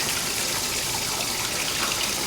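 Steady running water pours into a wash bath, rinsing freshly developed photographic film after the fixer, a continuous even gush close by with no voices.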